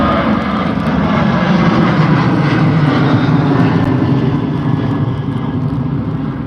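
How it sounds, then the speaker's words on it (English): A Ryanair Boeing 737-800 takes off from Liverpool John Lennon Airport for Warsaw. Its engines give a loud, continuous, steady roar close by, with no gaps. "that's the Ryanair 737-800 off to Warsaw"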